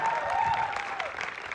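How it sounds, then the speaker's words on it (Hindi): Loud applause from an audience at a live stage event, dense clapping that holds steady and eases slightly, with a faint vocal tone and crowd voices mixed in. "एक बार जोरदार तालियां कुशल भाई के लिए।"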